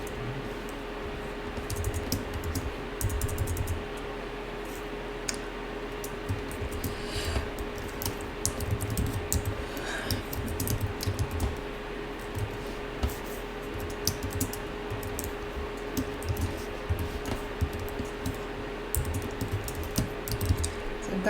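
Keys clatter on a computer keyboard as an expression is typed into a field, with irregular soft clicks scattered throughout over a faint steady hum.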